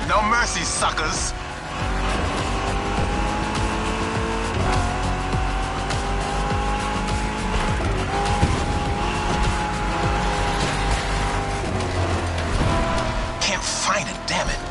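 In a racing video game a muscle car's engine roars without pause as its tires squeal and skid in bursts, with speech running over the steady loud mix.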